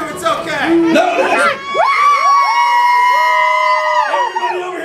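A lively audience at a Canadian lumberjack show with log rolling cheers and whoops loudly in several bursts, with shouting children and a host's voice talking over and between the cheers.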